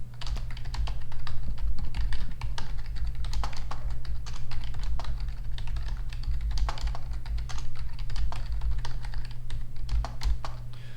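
Fast, steady typing of code on a computer keyboard, close and continuous, with a constant low electrical hum underneath.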